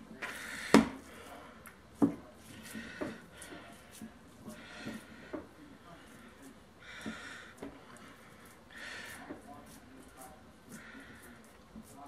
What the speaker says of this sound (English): I'm going to stuff it in there pretty good